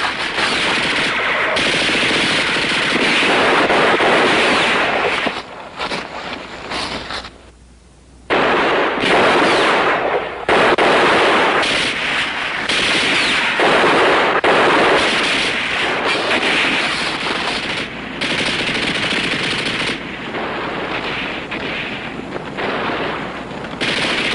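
Loud, sustained machine gun fire in a World War II combat drama, with long continuous bursts, one brief pause partway through, then more rattling volleys.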